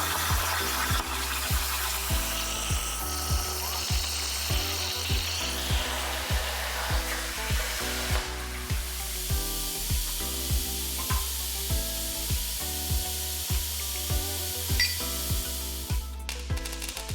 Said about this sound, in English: I'll go ahead and cut out the brackets on the plasma table